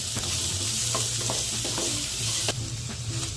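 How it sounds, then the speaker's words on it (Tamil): Shallots sautéing in a pan with ginger garlic paste and salt for a creamy mushroom curry, sizzling steadily while a spoon scrapes and stirs in repeated strokes, close and clear with no talk. "இஞ்சி பூண்டு பேஸ்ட் வதங்கினதுமே சின்ன வெங்காயத்தை ஆட் பண்ணிடலாம்."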